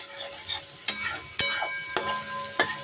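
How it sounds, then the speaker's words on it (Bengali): Bottle gourd leaf paste fries dry in a pan with a little oil, salt and turmeric while a utensil scrapes and clacks against the pan in irregular strokes over a faint sizzle, close up, with no talk. "সামান্য তেল দিয়ে নুন হলুদ দিয়ে এটাকে আমি ভেজে নেব একদম শুকনো শুকনো করে"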